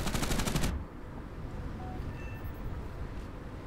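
Tank gunfire from a British Churchill Crocodile heavy tank in War Thunder: a loud, dense burst of rapid firing for under a second, followed by rumbling engine and battlefield noise with faint distant pops.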